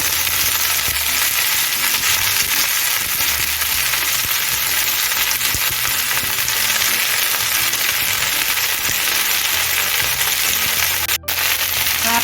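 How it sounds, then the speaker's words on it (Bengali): Drumstick leaves sizzling in oil already used to fry chilies, a dense, steady crackling hiss throughout with a brief sharp click near the end, no voices. "আমি লঙ্কা ভাজা তেলের মধ্যেই সবজি পাতাগুলি দিয়ে দিচ্ছি"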